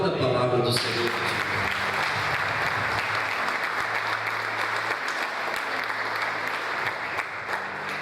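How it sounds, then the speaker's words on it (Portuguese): A church congregation applauds during a Portuguese-language sermon, starting with a brief sharp sound and then settling into a dense, continuous wash of clapping that stays fairly loud and even. "Aplauda a palavra do Senhor"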